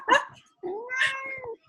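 A cat meows twice, close and clear: a short cry followed by a longer, drawn-out wavering meow, with quiet gaps around them.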